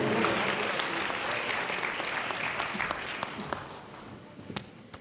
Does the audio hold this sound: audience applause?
yes